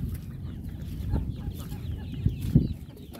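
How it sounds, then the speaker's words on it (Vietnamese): Chickens at a fisherman's coop beside Dau Tieng Lake in Tay Ninh, Vietnam, cluck in short, scattered bursts over low outdoor rumble, fairly close but not loud. "Gà vịt rất là nhiều luôn."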